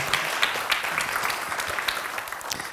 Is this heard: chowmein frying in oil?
no